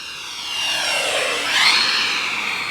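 A Freewing A-6 Intruder model jet with an 80mm electric ducted fan passes overhead in calm air, a loud, steady high-pitched whine and rush that swells and bends in pitch as it flies by.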